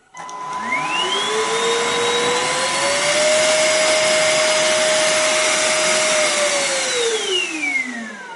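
A Kärcher FCV 3 cordless wet-dry floor cleaner spins up to a steady loud whine and motor roar, holding for several seconds before the pitch drops as it winds down, close by with no voices.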